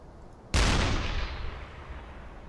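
A U-boat deck gun fires a single heavy round at a freighter in the submarine game UBOAT, a sharp loud blast that rolls into a long, slowly fading boom.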